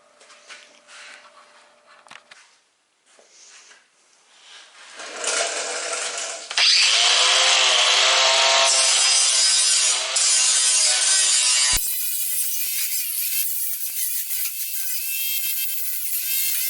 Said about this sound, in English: next we'll take a grinding wheel and just clean that up a little bit so that it's not as jagged